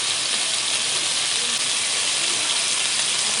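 Lote fish fry in hot oil in a pan on a gas stove, giving a steady, loud, unbroken sizzle and hiss that holds at the same level from start to end, with no talking.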